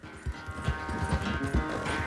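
Hooves clip-clop in a steady galloping rhythm as a horse runs in the Red Dead Redemption 2 video game, close and continuous, with a faint voice briefly underneath.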